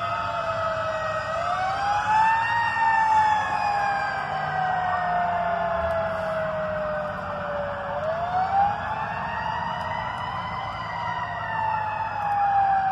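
A fire truck's wailing siren on a Christmas street, rising and falling in long sweeping cycles, loud and steady as it passes close by.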